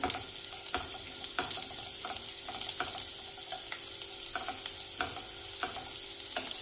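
Garlic sautéing in hot oil for veg manchow soup, a continuous close sizzle punctuated by regular scraping stirs and light utensil taps, with no one talking.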